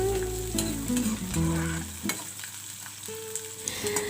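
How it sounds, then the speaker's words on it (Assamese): Chillies frying in a pan for an Assamese meal, a loud continuous sizzle close by with stirring clatter and some tonal background sounds in the first half. "আৰু এইখিনি ধুনীয়াকৈ ভাজি লওঁ।"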